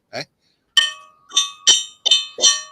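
An empty aluminum fire extinguisher struck several times, each hit giving a bright, clear metallic ring like a wind chime, with one short tap first and then five ringing strikes that decay between blows.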